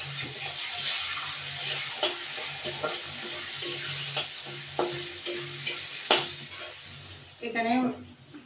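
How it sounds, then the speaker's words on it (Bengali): Onion frying in a pan for a yogurt chicken curry: a steady sizzling hiss with stirring scrapes and several sharp clinks of a utensil against the pan, ending in a louder burst of frying. "পেঁয়াজটা ভাজা করবো।"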